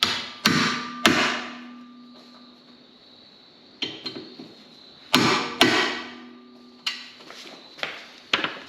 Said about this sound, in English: grab our impact screwdriver and our hammer and remove these set screws